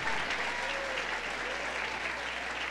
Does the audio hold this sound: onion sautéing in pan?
no